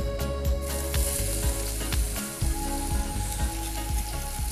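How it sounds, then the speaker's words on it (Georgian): Half an onion, chopped, frying in hot olive oil in a heated pot, a loud continuous sizzle close up with faint scraping and clicks of stirring underneath. "გადავიტანოთ გახურებულ ქვაბში ნახევარი თავი დაჭრილი ხახვი."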